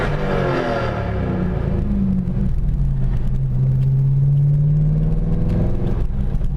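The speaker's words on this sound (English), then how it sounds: "If I ever stop myself wanting to rev under a bridge next to a wall, I'm done." A rear-wheel-drive manual car revs hard beneath a bridge beside a wall, its engine note climbing and echoing loudly as a continuous booming roar.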